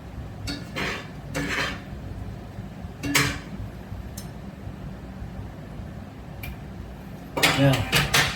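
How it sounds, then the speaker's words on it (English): Shrimp tossed and stirred in a skillet with a utensil scraping and clanking against the metal, several distinct bursts of clatter over a low steady background hum. "Then we take the shrimp, we drop that in the skillet, and mix everything around"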